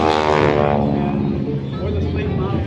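A propeller airplane from 1930s and 40s technology performs at an airshow, a loud, steady engine drone with a falling pitch as it passes, mixed with crowd noise.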